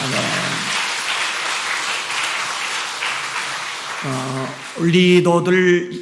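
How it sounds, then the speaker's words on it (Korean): A church congregation applauds the worship team steadily for several seconds, then singing voices and music rise over the fading clapping. "격려 축복의 박수 한번 해주시기 바랍니다"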